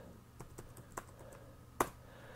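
Numbers being typed on a computer keyboard for a spreadsheet. A few quiet, scattered key taps are followed by one sharper, louder keystroke near the end, close up in a quiet room.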